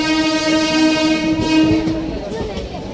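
The Ratnachal Express passenger train, running from Vijayawada to Visakhapatnam near Duvvada, sounds a loud sustained horn over the steady rumble and rattle of the moving carriages, with the horn fading toward the end.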